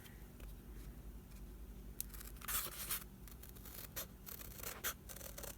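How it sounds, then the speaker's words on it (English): Scissors cutting through a paper plate to free a traced curved shape, a quiet run of crisp snipping and scratchy paper rustle in short bursts, close and alone over a faint steady background. "And then just cut it out."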